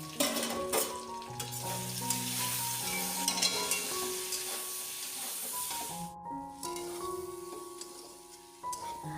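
Vegetable curry sizzles in a pot on the stove, a soft, steady crackle with occasional stirring and clinks, fairly quiet throughout.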